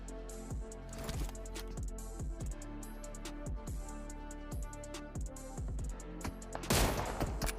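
PUBG Mobile gunfire crackles through in quick, irregular shots and short bursts over a low steady hum, fairly faint overall, with a louder burst of fire near the end and no speech.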